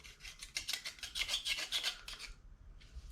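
A knife scrapes crushed garlic out of a metal garlic press in a home kitchen, making a run of quick, gritty rasping strokes up close, then a short pause and one more scrape.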